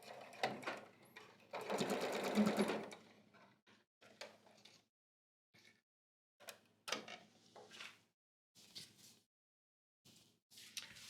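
Sewing machine stitching a skirt zipper: a sustained close whirr of rapid stitches, then short stop-start bursts separated by quiet gaps.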